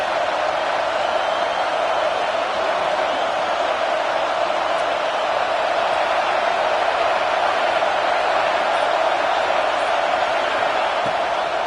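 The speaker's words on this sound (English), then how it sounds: "Decibels rising as the crowd gets behind this defense on third down." A stadium crowd at an Oklahoma vs LSU college football game roars steadily on a third-down defensive stand, a dense, loud, unbroken wall of noise that holds for the whole stretch.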